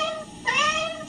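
A cat meows in a Meow Mix cat food commercial, a short tonal call rising in the middle of a brief, moderately loud moment.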